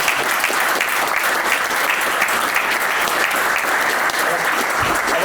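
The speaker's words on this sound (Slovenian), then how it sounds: "Verjamem, da se tole zasluži en aplavz." An audience at a round-table panel discussion breaks into loud, continuous applause, a thick, even patter of many hands clapping with no pause.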